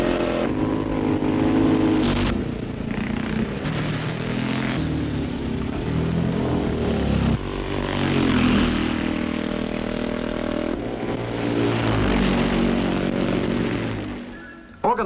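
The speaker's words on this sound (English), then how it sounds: "this impromptu Sunday morning scrambling practice" Several scrambling motorcycles roar and rev continuously, throttles rising and falling as the bikes labor over rough ground at a Sunday morning scrambling practice, loud and close throughout.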